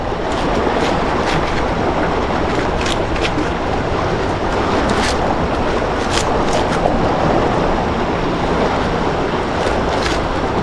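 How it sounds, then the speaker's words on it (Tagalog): A strong river current rushes steadily and loudly throughout, a dense continuous water roar with no talk over it. "Pasensya na po sa agos, sa ingay ng agos."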